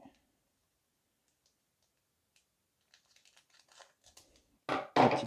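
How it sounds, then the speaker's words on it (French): Small scissors snip and crinkle through the foil wrapper of a Pokémon booster pack, a brief, close burst of crackling near the end after long quiet and a few faint ticks. "une petite paire de ciseaux."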